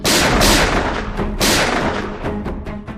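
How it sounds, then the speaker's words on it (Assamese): Heavy gunfire on the Assam–Nagaland border booms out in rapid, overlapping bursts, loud and close, with sharp blasts echoing and rolling away between shots. "অসম নাগালেণ্ড সীমান্তত নগাৰ ধাৰাসাৰ গুলীবৰ্ষণ"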